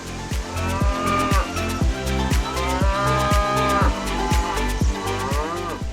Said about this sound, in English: Bison, like other cows, are herbivores that migrate in herds.